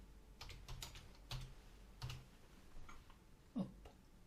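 Scattered keystrokes on a computer keyboard, a few separate taps and short bursts spread over a few seconds, fairly quiet and close, with no talking.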